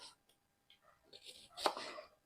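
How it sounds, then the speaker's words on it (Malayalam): Onions are chopped finely with a knife for Kerala-style onion vada: a few soft, quiet knife taps on a board, with one sharper, louder chop near the end. "അപ്പോൾ ഉള്ളി നമ്മൾ ചെറുതായിട്ട് അരിയണം"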